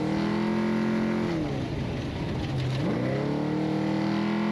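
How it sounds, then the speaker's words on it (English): A Baja off-road race vehicle's engine drones loudly and steadily from an onboard position, its pitch dipping as the throttle rolls off and climbing again as it comes back on. "See how Baldy's kind of coasting through things more, rolling on and off the throttle"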